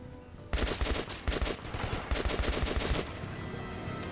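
Rapid automatic gunfire from the video game Metro 2033 rattles out in a dense burst of shots for a few seconds, loud and close against a steady game background, then cuts off.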